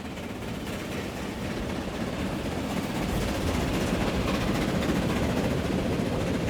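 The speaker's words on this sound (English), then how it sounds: "Oh, here comes a train." A steam-era train arriving on the line in the railway game Transport Fever 2, a steady rumbling and chugging that grows a little louder as it approaches, with no talk over it.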